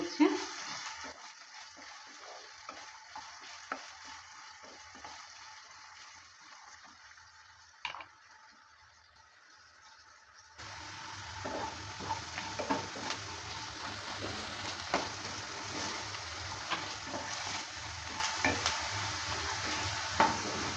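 Potatoes fry in a pan with a little salt while being stirred, for a dish with flat bean seeds and fenugreek greens; steady sizzling runs throughout, with scraping stir strokes and a hotter, louder sizzle in the second half.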